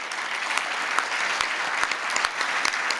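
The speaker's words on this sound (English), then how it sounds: "we're going to get a chance to applaud multiple times here" An audience at an indoor economic awards ceremony claps steadily, a dense, even wash of applause from a sizable crowd with a few sharper nearby claps standing out.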